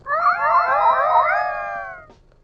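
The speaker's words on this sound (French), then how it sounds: "ce miaulement de l'horreur" A cat lets out one long, drawn-out wailing meow lasting about two seconds, loud and close, rising and wavering before trailing off into quiet.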